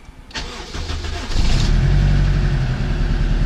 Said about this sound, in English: Car turns on. Car is idling.